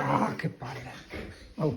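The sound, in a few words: dog whimpering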